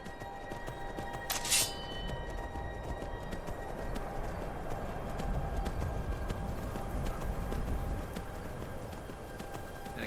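Horse hooves pound steadily in the video game Skyrim, a continuous galloping clatter at moderate volume, with a brief bright chime-like sound early on and a faint background drone.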